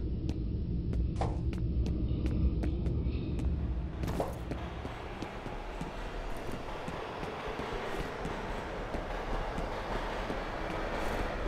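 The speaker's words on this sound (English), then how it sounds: "The subway still going on?" A low, continuous rumble of a subway train rolling along the tracks in the video game F.E.A.R. Extraction Point, with some sharp clicks at the start and no one talking.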